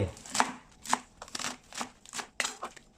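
A knife chops through pieces of pork belly on a board for a Thai sour curry with morning glory, giving seven or eight sharp, close chops at an uneven pace with no talk.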